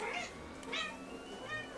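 An unhappy indoor cat gives a few short, whiny meows in quick succession, fairly faint and close, with quiet room background and no talking.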